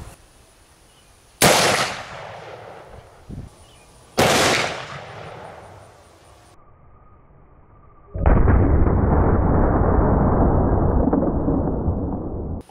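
Two loud, sharp gunshots from a .454 Casull revolver with a 2.5-inch barrel firing 300-grain hollow points into ballistics gel, each a sudden blast with a decaying tail, followed by a long broad rushing noise.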